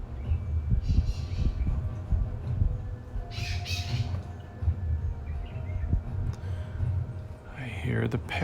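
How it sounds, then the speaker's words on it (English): Wild parrots squawking outdoors in Pasadena, a few harsh calls at a distance, partly under a person talking nearby and low background noise. "I hear the parrots."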